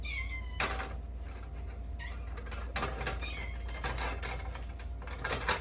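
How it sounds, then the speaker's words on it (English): A cat meows several times, short insistent calls spaced apart, nearby but fairly quiet over a low steady background hum. "Yeah, you hear my cat. She wants attention."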